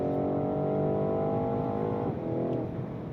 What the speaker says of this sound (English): Just that profile of V8